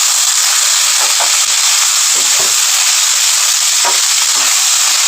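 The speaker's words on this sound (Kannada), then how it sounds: "ಚೆನ್ನಾಗಿ ಇದು ಮಿಕ್ಸ್ ಆಗಬೇಕು, ಎಣ್ಣೆಯಲ್ಲಿ ಫ್ರೈ ಆಗಬೇಕು." Cooked vegetables are mixed and fried in oil in a pan, giving a loud continuous sizzle with occasional scraping stirs underneath.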